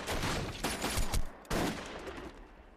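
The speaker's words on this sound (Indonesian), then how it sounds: "Jun Seok kena tembakan dan jatuh." Several rapid bursts of gunfire crack out in quick succession in an action film, followed by one sharp shot and a fading echo.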